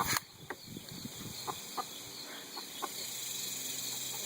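Scattered soft clucks from chickens, a few short calls spaced apart over a steady high-pitched hum, with no talking.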